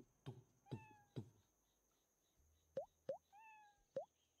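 Cartoon cat meows from the Hidden Cats in Town video game: three short plopping taps, then a series of distinct rising meow-like chirps, clear and close with no talking.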